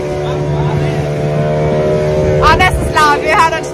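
A glass-bottom boat's engine drones loudly and steadily at close range, a low sustained rumble with a whooshing swell near the end as it presses on over water.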